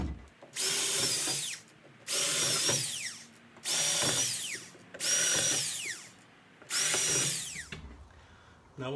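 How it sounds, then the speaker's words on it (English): A power drill bores holes across the top of a no-trespassing sign in five loud, even bursts of about a second each, its pitch sagging as each bit bites, with short pauses between. "Got to drill a couple holes across the top."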